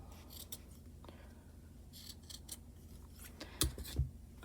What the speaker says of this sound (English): You're just going to go around and cut